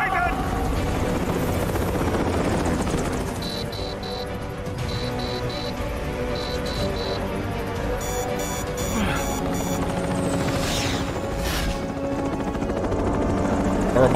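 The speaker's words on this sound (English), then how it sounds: "A reminder that Doctor has never flown a chopper." A helicopter in the game Metal Gear Rising: Revengeance flies with a steady, loud rotor drone throughout. Electronic beeps and game effects sound over it while people talk.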